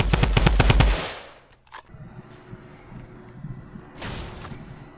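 Rapid burst of gunfire in the Fortnite video game, loud and close, followed by a couple of short pops and quieter game ambience with a later swell of noise.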